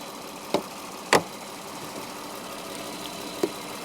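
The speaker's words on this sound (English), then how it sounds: "I'm gonna turn off the engine" An Audi engine idling with a fault that a dealership failed to fix, a low, steady hum broken by three sharp clicks or knocks, heard up close with no voices.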